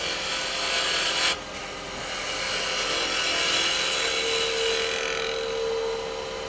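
A 3/8 bowl gouge cuts a resin bell Christmas decoration spinning on a wood lathe, giving a steady close rasping hiss with a brief dip partway through.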